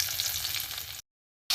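Chopped garlic sizzles in oil for a fish curry, a close, steady crackling hiss that cuts out abruptly into silence and returns briefly at the end.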